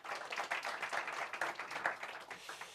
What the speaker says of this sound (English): Please, let's give a warm round of applause for the veteran of South African distance running